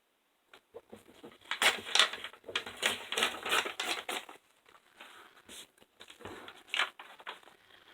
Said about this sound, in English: So I'm going to tear one more side.